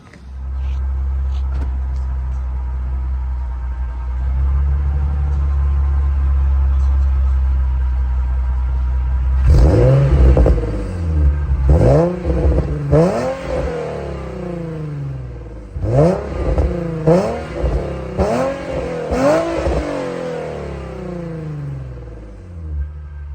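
A Nissan 350Z Nismo engine with its stock exhaust idles with a steady low rumble, then revs sharply several times in quick bursts, each climbing and falling back, fairly quiet exhaust tone.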